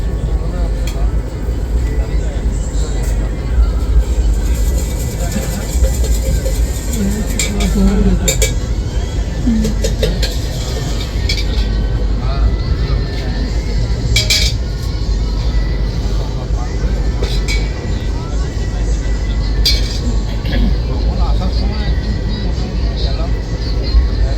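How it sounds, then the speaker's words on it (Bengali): Onboard the ICF-coach Black Diamond Express as it leaves Mankar, bound from Dhanbad to Howrah: a continuous low rumble and rattle of the rolling carriage, scattered metallic clinks and rail clatter, with people talking throughout. "মানকর থেকে ট্রেন ছাড়লো"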